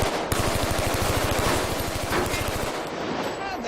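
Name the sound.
machine gun firing real bullets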